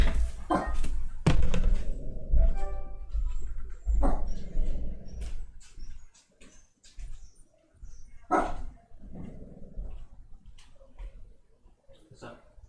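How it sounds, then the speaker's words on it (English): A dog in the Valkyria Revolution video game barks several times in short bursts, spread across the scene amid game sounds, with voices talking between the barks. "Why you bark?"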